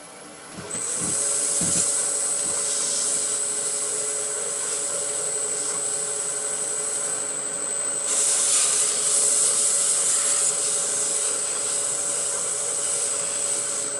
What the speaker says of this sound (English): the Yorkshire grit is like a very, very fine abrasive. So it just sands this up a little further